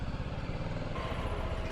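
A BMW G310GS motorcycle engine idles nearby with a steady, low, slightly clattering thrum, constant in level throughout the short stretch, with no talking.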